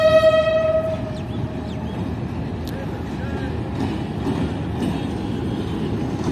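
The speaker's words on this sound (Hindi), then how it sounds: "ये कोयटा और पेशावर के दरमियान चलने वाली 39 अब जाफर एक्सप्रेस का रेक आ रहा है" A Jaffar Express passenger train rake running between Quetta and Peshawar rolls toward the platform, opening with a loud horn blast and then a steady rumble of rolling cars while a voice talks over it.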